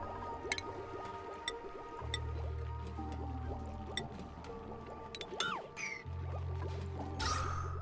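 Water drips and falls in a waterfall inside the Oxygen Not Included game, a steady watery patter with scattered drip ticks over a low droning hum, with no talk.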